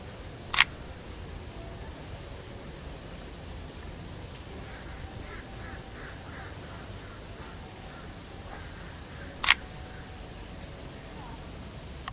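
Two sharp single-lens reflex camera shutter clicks spaced several seconds apart, taken discreetly outdoors at Animal Kingdom amid steady ambient hiss and faint distant background sound.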